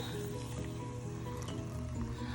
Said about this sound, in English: Okay, and then I put my hot water in.